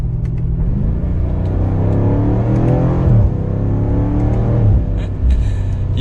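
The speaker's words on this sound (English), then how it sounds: "we'll go ahead and downshift again here." A 2022 Cadillac CT5-V Blackwing downshifts and accelerates, its engine note rumbling and rising in pitch with a brief shift blip midway, heard steadily from close by with no talk.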